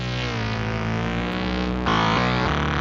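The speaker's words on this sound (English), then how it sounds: "So that is the monster lead, which normally sounds like this." A monster lead preset on a Yamaha Montage/MODX synthesizer plays a thick, buzzing, distorted sustained tone with rich harmonics, shifting pitch and brightening near the end, loud and alone.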